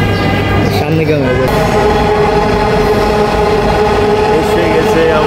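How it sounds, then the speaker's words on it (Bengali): A metro train rolls into a station platform, its steady mechanical rumble and hum loud and close throughout, with a brief higher screech early on and crowd noise in the background. "এসে গেছে আমাদের সেই মেট্রো রেলটা।"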